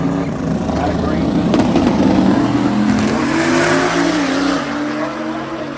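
Cars accelerate hard side by side from a roll start at a Street Car Takeover drag event, one of them a small BMW, their engines roaring loudly and continuously in the open air.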